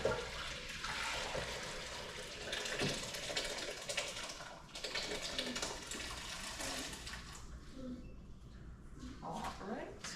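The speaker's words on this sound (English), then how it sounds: "Transfer the peas to the pot which we're going to cook the rice." Cooked peas and their liquid are poured into a pot for cooking rice in a kitchen, giving a steady watery splashing rush with faint clatter that continues for several seconds.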